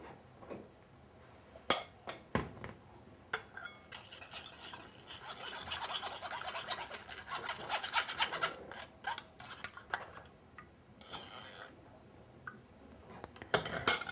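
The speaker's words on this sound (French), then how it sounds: "il suffit tout simplement de verser le tout dans la passoire" Strawberry mixture is poured into a sieve and worked through with a utensil, giving close, soft scraping and rasping strokes with intermittent metallic taps. The sounds swell into a busier stretch midway, then ease off.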